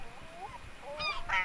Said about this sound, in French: Vous voulez écouter le goéland?